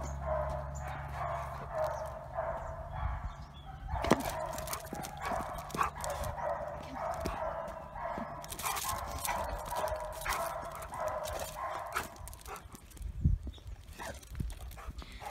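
A puppy barks in short, sharp yaps during indoor play, the barks scattered across the clip over a steady low hum, with scuffing and clattering movement between them.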